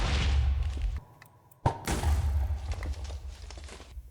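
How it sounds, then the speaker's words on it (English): Minecraft TNT blocks explode in deep booming bursts, with a loud rumble that cuts off into near-silence and then a second heavy blast that rolls on and fades. "Here's the TNT explosions."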